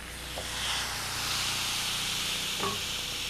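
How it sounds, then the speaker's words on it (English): Shrimp kebab hissing and sizzling on a hot George Foreman Lean Mean Fat Reducing Grilling Machine as the lid closes, a steady close spitting hiss that holds throughout with a couple of faint clicks. "put both of these on your hot grill, close the lid"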